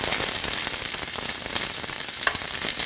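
Onions frying in a hot pan give a steady, dense crackling sizzle that carries on evenly with a few brighter pops, close and moderately loud with no talk over it.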